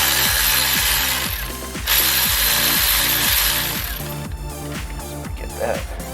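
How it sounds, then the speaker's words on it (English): A Milwaukee electric ratchet loosens bolts on a turbo D16 engine in a Suzuki Vitara build, giving a close, loud stream of rapid clicking in regular pulses with a mechanical whir, continuous throughout. "As long as I can fit this little Milwaukee ratchet in places, it like makes everything so much easier."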